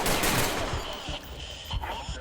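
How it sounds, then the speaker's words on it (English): A burst of gunfire in the video game Ready or Not, with several close, loud shots in quick succession and game noise around them, and a voice briefly audible. "Why are you shooting me?"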